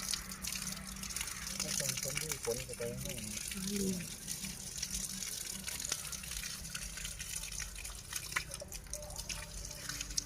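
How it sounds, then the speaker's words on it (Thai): Water from a garden hose rinses over a wound, a continuous splashing and trickling stream with a voice talking briefly over it. "ตอนนี้เราเอาสายยางเอาน้ำมาล้างออกก่อนนะคะ เพื่อที่จะได้ล้างแผล"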